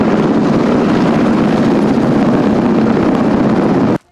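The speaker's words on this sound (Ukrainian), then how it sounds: "На допомогу летів гелікоптер «Мі-8»." An Mi-8 helicopter on a mountain rescue training exercise roars steadily and loudly overhead with a dense rotor thrum, then cuts off abruptly at the end.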